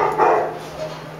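Bulldog mix puppies sharing a bed at a shelter give a brief, high-pitched yip over steady background hum in a short close-up moment.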